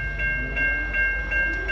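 A freight train rolls past at close range with a steady low rumble and a sustained tonal whine, broken by faint rhythmic knocks as the cars go by.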